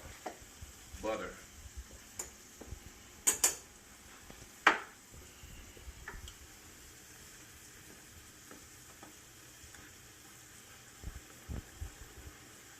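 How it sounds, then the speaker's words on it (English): A pat of butter being stirred into a pot at a low boil, with soft scattered scrapes and taps of a utensil against the pot over a quiet, sizzling bed, a couple of sharper clinks standing out near the start. "Just stir it up, get that butter in there."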